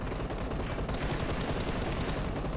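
Rapid automatic gunfire in PUBG Mobile, a dense, loud, continuous burst of shots filling the whole moment with no talking.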